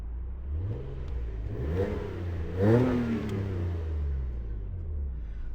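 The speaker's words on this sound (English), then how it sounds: "See if I can give you guys kind of an exhaust sound." A 1998 Nissan Skyline R34 revs its exhaust while parked, a low rumble rising in pitch through two swelling revs, the second louder and sharper, then settling back to a steady idle.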